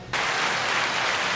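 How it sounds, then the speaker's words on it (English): An applause sound effect triggered from a button during a podcast recording bursts in after a brief quiet moment, then holds as a steady, dense wash of clapping and crowd noise to the end. "I will let Kenny hit the applause button."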